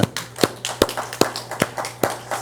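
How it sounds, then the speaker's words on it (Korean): Church congregation clapping in rhythm, a steady series of sharp claps about twice per second over a low constant hum, moderately near, with no one speaking. "우리 박수 한번"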